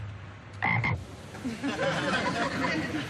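A loud, close frog croak sounds briefly, followed by a rough, crackling background of scattered chirps and noise.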